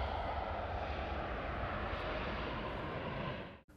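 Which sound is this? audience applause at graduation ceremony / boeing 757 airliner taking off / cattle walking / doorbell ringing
boeing 757 airliner taking off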